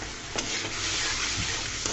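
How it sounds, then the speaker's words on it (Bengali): Ghugni spice masala with tomato and green chillies sizzles and fries in a pan while being stirred, a steady close hiss with scraping strokes and no talk. "মশলাটাকে ভালো করে কষিয়ে নিব।"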